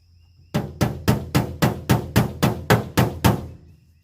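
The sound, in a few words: hammer and dolly hammering a car body panel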